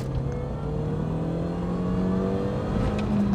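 A Mini Cooper S R53 accelerates with its supercharger whining, a steady engine drone under a rising high-pitched whine that climbs as the revs build, close and fairly loud.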